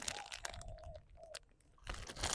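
Dogs chewing bread, giving close, irregular crunches and wet mouth sounds with brief pauses between bites.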